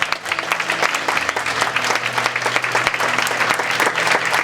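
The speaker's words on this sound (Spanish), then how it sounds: "Vamos a dar un fuerte aplauso al Señor." Strong applause from a church congregation during a worship service, many hands clapping in a dense, fluttering wash with a low sustained tone and murmured voices beneath.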